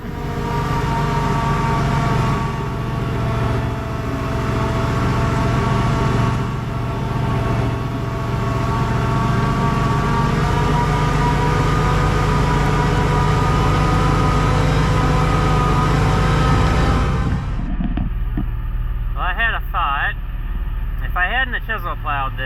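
A White 4-150 tractor engine labors steadily pulling uphill across a damp field, a loud continuous low drone with someone talking over it, before the engine noise cuts off sharply near the end.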